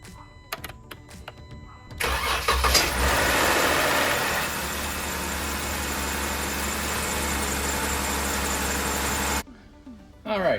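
A Chrysler Pentastar engine fitted with a Baxter Performance oil pump cranks on a dry start and catches, then idles loudly and steadily for several seconds before shutting off, preceded by a few clicks.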